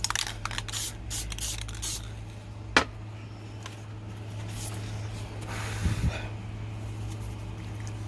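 Lacquer is sprayed onto a crafted piece in a few short hissing bursts with brief gaps between them, close and fairly soft, with no voices over it.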